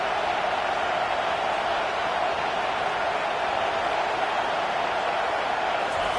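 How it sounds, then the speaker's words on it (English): Home crowd roaring at a college football game between Missouri and Kansas State as the defense faces third down, a dense, steady wall of cheering noise that holds loud and unbroken throughout. "Decibels rising as the crowd gets behind this defense on third down."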